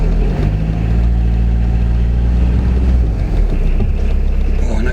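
A Peugeot 306 engine, locked up for over seven years and now warming up, runs with a loud, steady low rumble close to the microphone, a constant idle hum with some wind buffeting.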